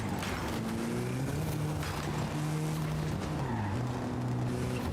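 A car doing donuts in Forza Horizon 5, with steady tire squeal and a revving engine whose pitch sweeps up and down throughout, loud and continuous with no talk.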